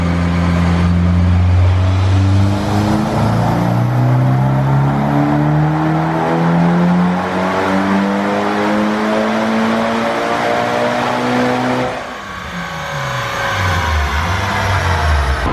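A Mitsubishi Evo 5 running on E85 revs hard through a long pull, its engine note climbing steadily for about twelve seconds before dropping briefly and building again, loud and close with no talking.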